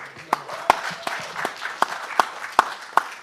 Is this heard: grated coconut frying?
no